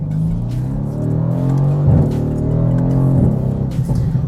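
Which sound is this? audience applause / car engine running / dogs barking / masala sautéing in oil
car engine running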